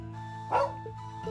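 A single short dog bark rises out of a steady tonal background hum, fairly faint and brief.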